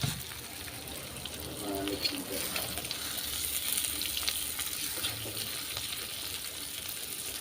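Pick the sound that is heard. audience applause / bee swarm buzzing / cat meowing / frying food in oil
frying food in oil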